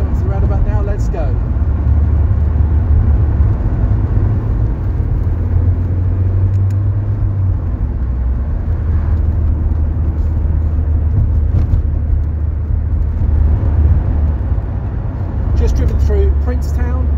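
MGF Trophy 160 roadster driving across Dartmoor, giving a steady loud low engine and road rumble throughout with wind noise, heard from inside the car, while someone talks over it.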